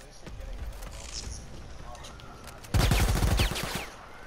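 Video-game gunfire rattles in a loud, rapid burst of shots lasting under a second, after quieter thuds and background noise.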